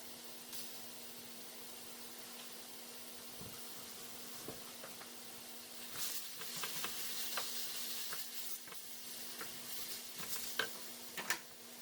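Ground beef browning in a dry hot pan, giving a faint, soft sizzle with occasional crackles and spatula scrapes, fairly quiet and steady with a low hum underneath.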